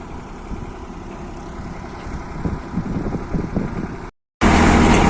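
A tractor engine runs steadily on a high mountain road beside a steep drop, a close, even mid-pitched rumble that grows a little rougher before cutting out briefly and returning louder.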